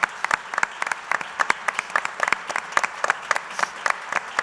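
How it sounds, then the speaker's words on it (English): Scattered, individually distinct hand claps from a modest audience at a mayoral inauguration gathering, irregular and close, with no crowd roar behind them. "Okay, stop clapping."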